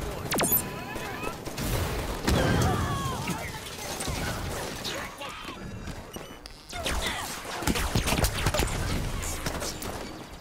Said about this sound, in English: Rocket launcher to good use.